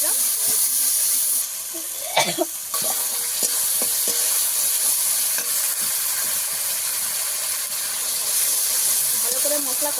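A ground spice paste hitting hot oil with melted tomato for a bhetki fish curry, a steady hissing sizzle with stirring clatter and a brief louder burst early on, close.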